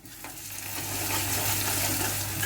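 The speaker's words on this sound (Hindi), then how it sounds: "प्याज भी अच्छे से भुनने लगी।" Chopped onions sizzle and fry in a pan for a Shahi poppy seed and cashew curry, a continuous close hiss that swells slightly louder as it goes, with no talking.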